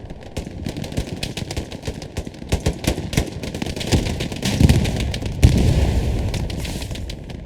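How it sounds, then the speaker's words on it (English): A rocket striking the side of a Stuart tank in the World War II shooter Hell Let Loose, amid a busy battlefield of rapid gunfire cracks and explosions, with a heavier blast and rumble landing past the midpoint. "Stewart takes one rocket to the side here."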